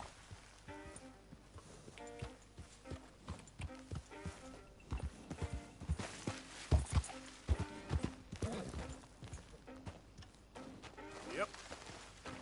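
Hooves of a horse in Red Dead Redemption 2 clip-clop in uneven bursts, louder in the middle and fading toward the end, with a voice speaking intermittently over them.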